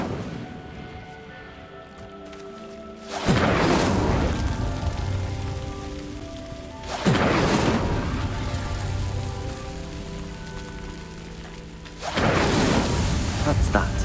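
Three separate whooshing bursts of the Incendio fire spell lighting pyres in the Hogwarts Legacy video game, each a loud crackling rush that fades slowly, spaced several seconds apart over a soft background, with some speech present.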